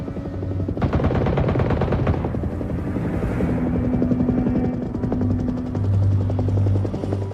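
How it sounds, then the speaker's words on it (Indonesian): A government helicopter's thudding rotor drones loudly throughout while bursts of rapid machine-gun fire rattle over it, in an action film. "Helikopter pemerintah akhirnya menemukan mereka. Tembakan dilepaskan tanpa ampun."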